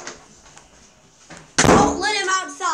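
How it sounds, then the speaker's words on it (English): A house door is pushed shut with a single solid thud midway through, and a person talks right after it, with quieter talk and room noise before. "I'm closing every possible door."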